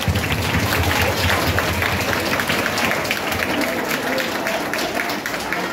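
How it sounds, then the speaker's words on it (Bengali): Students at a school program clap loudly together, a dense sustained round of applause from a crowd, with voices mixed in. "একবার ওদের জন্য জোরে একটা হাততালি।"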